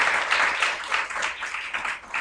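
During a web conference, a group claps in a lively, uneven patter of overlapping hands, moderately loud and close, with no talking over it.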